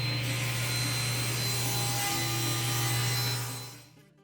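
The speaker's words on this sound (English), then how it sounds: "Tearing down 4x8 sheets of 3/4 inch plywood is no joke" A table saw slices through a 4x8 sheet of 3/4 inch plywood: a steady, loud motor hum and blade whine hold for several seconds, then spin down and fade away.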